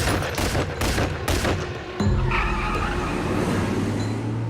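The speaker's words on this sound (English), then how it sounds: "As it got closer to the BMW, the arm came out and the gun just started firing." A rapid burst of gunfire from a car in a drive-by shooting near a BMW, loud sharp cracks firing in quick succession, then giving way to a vehicle's engine and road noise.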